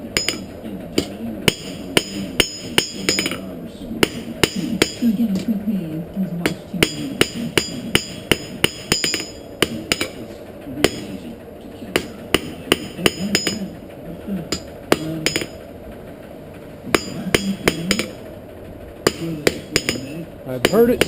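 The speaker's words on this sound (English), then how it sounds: "If you can gob that weld up pretty big and hammer it down to where" Repeated sharp metallic hammer strikes on a weld in hot steel at a forge while making bolt tongs ring out in quick bursts and steady rhythms, close and loud, with a low voice murmuring between them.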